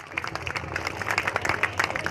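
Audience applause at a temple festival and fire-ritual gathering, a steady, dense patter of many hands clapping close by for about two seconds, with no speech over it.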